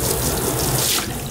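Water running from a tap into a sink as a dog plays in the stream, a steady loud close splashing rush that fills the whole clip without pause, with no voices.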